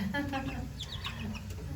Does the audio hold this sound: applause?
no